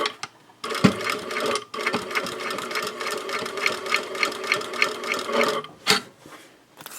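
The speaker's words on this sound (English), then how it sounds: "And I am going to backstitch." A sewing machine backstitches a zipper pouch, a loud close run of rapid needle stitching with brief pauses and restarts as the stitching direction changes, no speech over it.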